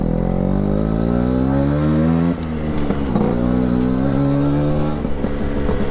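A 1986 Piaggio Vespa PX200E scooter is ridden, its two-stroke engine droning loud and close with a steady buzzing note that dips and rises through a gear change midway.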